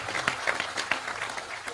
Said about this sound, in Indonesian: Sekarang tepuk tangan untuk Anda semua